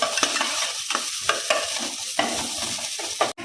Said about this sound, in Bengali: কারি পাতাটা একটু নাড়াচাড়া করে দিয়ে দিলাম পেঁয়াজ পেঁয়াজটা একটু লাল করে নেবো আগে